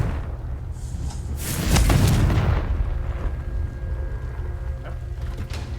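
A Confringo explosion spell fired in Hogwarts Legacy on PS5: a sharp burst blooms into a deep, rumbling boom that peaks and then rolls off into a lingering low tail, with faint tonal game sounds afterward.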